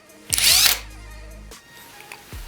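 Dnipro-M DTD 201BC cordless impact driver running in its second mode: a short loud whirring burst with a rising motor whine that cuts off, followed by quieter clicks and a brief final whir, close up and with no talking.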